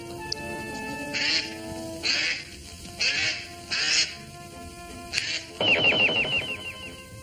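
A duck quacks in a string of loud nasal calls about once a second, ending in a rapid rattling burst, over soft music.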